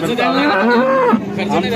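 Cows moo in long, deep, drawn-out calls at the Alephata cattle market, loud and close, with crowd voices mixed in.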